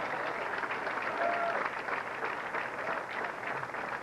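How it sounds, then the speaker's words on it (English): Bowling fans at a 1993 pro bowling match applauding and cheering, a steady wash of clapping from a crowd that holds through the whole stretch. "A lot of fans here cheering for Bob Spaulding."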